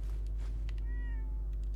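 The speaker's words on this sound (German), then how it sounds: "Miau. Jo, Katze." A cat meows once, a rising and falling wavering cry, inside the Fallout 4 game world, with steady low background hum and a few soft clicks around it.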